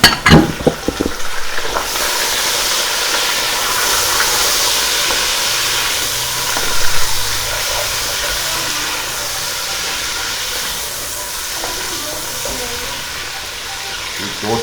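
Chicken hits a pan of browned onions while cooking biryani, with a few knocks at first, then a loud, steady sizzling hiss that continues close up, with a brief bump of stirring midway.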